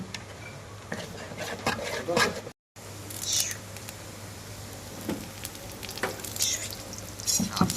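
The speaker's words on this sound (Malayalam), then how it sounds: "spread some pepper powder over this മതി ഇനി നമുക്ക് വീണ്ടും നന്നായിട്ട് ഇളക്കി കൊടുക്കാം" Pork roast dusted with pepper powder is stirred in a sizzling pan, the soft frying hiss and occasional scrapes running under quiet, low talking, with a brief gap partway through.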